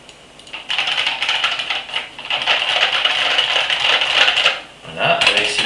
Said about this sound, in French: un IBM modèle M avec ses petits bruits bien sympathiques,